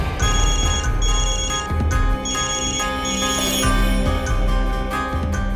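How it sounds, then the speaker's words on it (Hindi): A telephone rings with a repeating electronic ringtone, loud and steady in short bursts, over a low background hum. "मुझे लगा कि आलोक सर इसका पता लगा लेंगे, इसलिए मैंने उन्हें फोन किया।"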